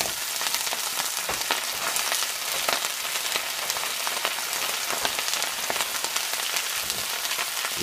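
Broccoli rabe sizzles in a pan over browned garlic with shiitake mushrooms, a steady dense crackle of frying that holds evenly throughout with no talking.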